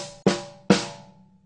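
Two crisp drum hits of a Swiss triplet sticking, hi-hat and snare struck together, each ringing out briefly before the next, alone and close.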